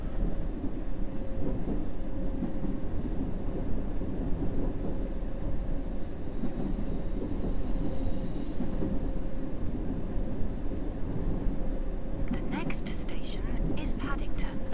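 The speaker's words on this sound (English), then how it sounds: "it's really making quite a bit of noise going around there" Subway train running in the video game World of Subways 3, a steady loud rumble of wheels on track with a faint squeal rising midway and brief clicks near the end, continuous throughout.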